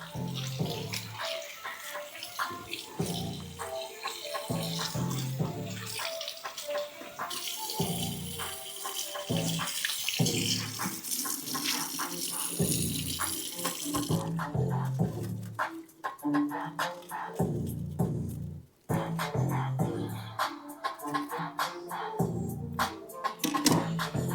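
Vintage jewelry being rinsed under a running tap in a sink, a strong continuous splash of water with shifting gurgles and clinks as the pieces are turned in the stream.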